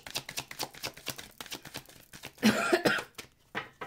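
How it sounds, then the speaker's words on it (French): Someone coughs repeatedly from incense smoke in short, dry bursts, with a longer, harsher fit of coughing near the end, close to the listener. "je tousse parce que je crois que c'est l'encens que j'ai mis tout à l'heure"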